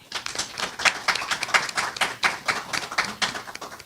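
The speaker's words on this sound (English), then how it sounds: "So let's give it an applause for her." Audience applause for an entrepreneurship week speaker at Houston Baptist University, a thin scattering of claps from a modest crowd, irregular and fairly close, rising and falling without talk.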